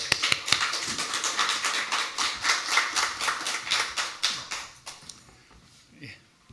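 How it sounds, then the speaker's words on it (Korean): A church congregation at a Sunday worship service gives a missionary speaker a welcoming round of applause, a dense crowd of clapping that holds steady for several seconds and then thins out and fades to near silence. "박수까지 쳐주시니 감사합니다"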